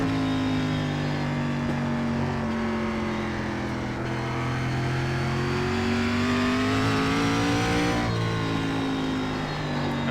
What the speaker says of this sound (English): This is your standard short track stock car with a little bit of power.